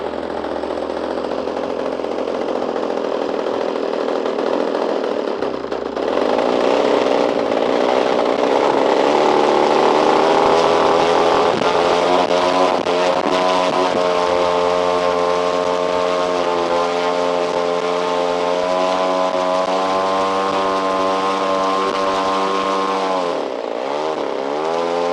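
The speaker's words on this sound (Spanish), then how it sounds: "Habiendo arrancado nuestro modelo, le dejamos un tiempo a que el motor se caliente" Small gasoline model engine idling and warming up after starting, a loud continuous buzzing drone with a rising, steadier tone partway through and a brief dip near the end.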